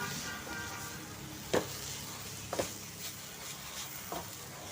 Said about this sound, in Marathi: आपण मध्ये मध्ये एक एक दोन मिनिटांनी हलवत राहायचं नाहीतर ते खाली लागण्याची शक्यता असते